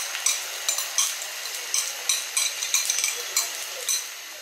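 Three eggs fry in a small frying pan, a bright crackling sizzle broken by quick irregular spatters and pops, close and fairly loud.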